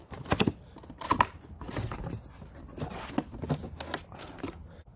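The cardboard box of an Ego 650 leaf blower is opened up close, with faint rustling, scraping and tapping of cardboard and packing in irregular bursts.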